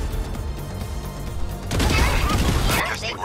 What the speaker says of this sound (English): I think I can get both of them with one missile.